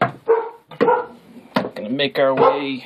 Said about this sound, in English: that's my dog being paranoid for some odd reason.